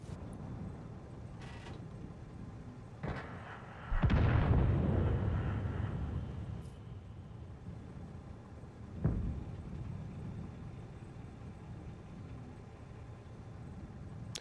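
Tank cannon shots in the World of Tanks video game: a few heavy booming blasts, one big loud shot with a long rumbling tail and another sharp shot later, over a steady low engine drone.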